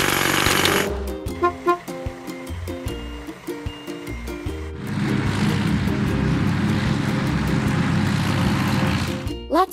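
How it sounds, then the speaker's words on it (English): A hydraulic hammer breaks rocks in a kids' truck-building video game, with rapid mechanical pounding bursts, short tonal game effects, then a sustained noisy rumble before a sharp ending. "Hydraulic hammer. Press the pump."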